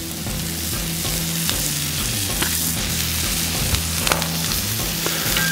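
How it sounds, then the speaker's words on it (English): Diced onions sizzle on a Blackstone griddle with a steady, close, continuous crackle that holds at an even level throughout. "the first thing we want to do is we want to get our onions down"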